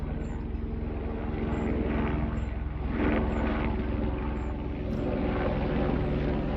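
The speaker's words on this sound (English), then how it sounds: "Let's wait for the helicopter to go past." A hospital helicopter drones steadily overhead a kitchen garden in June, its low rotor thrum and engine noise continuous and fairly loud throughout, swelling slightly near the middle.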